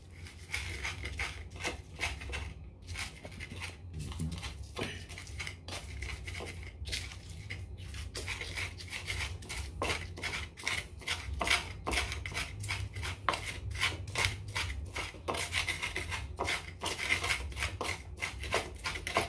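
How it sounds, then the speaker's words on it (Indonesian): Rujak ingredients with salt are ground in a stone mortar with a pestle, producing a long run of fast, rhythmic scraping and knocking strokes, close and steady over a low background hum, with no talking. "kita ulek dulu"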